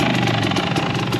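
A 500 adventure motorcycle engine idling nearby, a steady, throbbing rumble with an even pulse for a brief moment.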